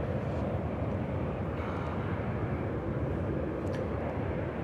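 A Qantas airliner arriving from Seoul at Sydney Airport, heard as a steady, broad jet engine roar that holds at an even level throughout, distant but continuous, with no talking.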